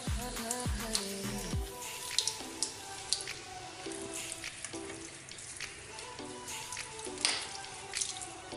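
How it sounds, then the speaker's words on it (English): A makeup brush is rinsed under a running tap and swirled against a soapy palm, giving a steady close splash of water with wet squishing and dripping throughout, no voices. "running the brush underwater, and then swirling it around on my hand with the soap"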